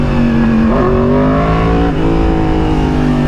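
A Yamaha R1 motorcycle engine revs loud and close, a continuous rough roar whose pitch climbs steadily, dips briefly, then climbs again.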